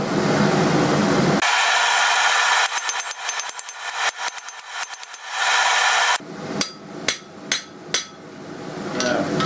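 A blacksmith works a piece of rod set as a rivet, cold, with a loud roaring blast giving way to a run of rapid metallic taps, then several sharp, ringing hammer blows at close range; no speech.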